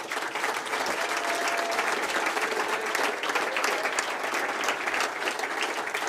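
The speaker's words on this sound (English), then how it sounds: "I think there should be a round of applause for him" Audience at an Essex activity awards ceremony breaks into sustained applause, dense and loud, lasting several seconds with no one talking over it.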